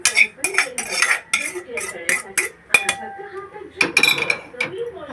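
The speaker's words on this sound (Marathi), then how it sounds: "आता मी तो ताटात काढून घेते।" Roasted gram flour is scraped out of a kadhai onto a plate with a metal spoon, giving a close run of repeated metallic scrapes, clinks and taps in irregular bursts.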